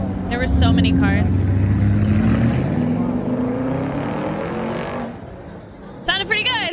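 Steady roar of vehicle engines and road noise passing close by, swelling and fading, with voices talking over it.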